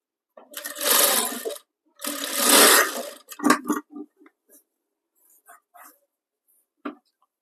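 A sewing machine stitching a blouse runs in two short, fast bursts of close, whirring stitching, followed by a few faint clicks and handling taps.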